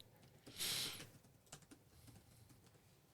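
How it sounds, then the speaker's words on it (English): Computer keyboard typing: a brief flurry of close key clacks, then a few scattered faint taps, ending with a sudden loud knock. "I hear the keyboard clacking there."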